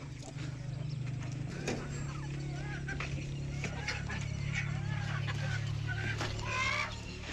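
Hens clucking inside a poultry farm shed, several birds calling in short repeated clucks over a steady low hum, fairly close and moderately loud throughout.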